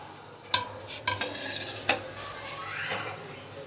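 A spoon stirs whole spices, black cardamom, cloves, black peppercorns and cumin, into beef stew in a metal pot, with a few sharp clinks against the side and a soft sizzle between them, close and quiet.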